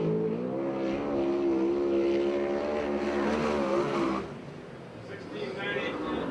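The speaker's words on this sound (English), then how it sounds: "On the racetrack right now, the number 7 car" USAC/CRA sprint car racing on the dirt track at Perris, California, a loud, revving engine note rising and falling as the car passes, then fading into a lower distant drone, with an announcer talking over it.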